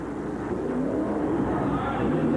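The AM/PM Boss monster truck makes its run at the 1988 USHRA event in Tucson, its engine a loud, steady, unbroken roar throughout.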